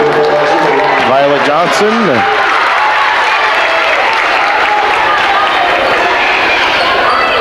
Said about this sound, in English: As you can hear, the Milbank crowd right in front of me making all kinds of noise